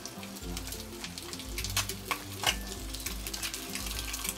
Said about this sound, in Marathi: हे बघा आता एक साईडून असं चांगले भाजून घ्यायचं।